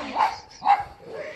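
A dog gives two short barks close by, followed by a softer whimpering yip, all within a second and a half.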